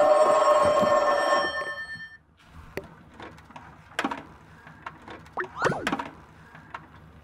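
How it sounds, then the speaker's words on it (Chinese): A telephone rings loudly at the start with a sustained bright trill for about two seconds, then stops, followed by faint scattered clicks and knocks in a quiet room. "电话响了。"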